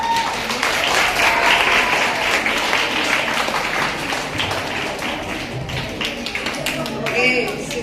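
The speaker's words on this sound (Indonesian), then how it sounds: "Terima kasih, tepuk tangan" Students applaud in a university biostatistics lecture, with a continuous burst of many hands clapping that tapers slightly, and voices chatter beneath it.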